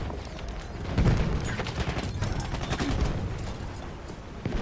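SMG fire in a video game: dense, continuous rattling bursts of rapid gunfire blending with explosions and busy battle noise, loud and sustained throughout.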